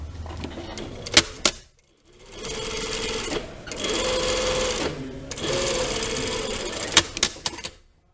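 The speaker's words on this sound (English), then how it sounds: "we're just going to understitch along here" A sewing machine understitches through three layers of a lined jacket vent in three sustained runs separated by short pauses, with a few sharp clicks before and after.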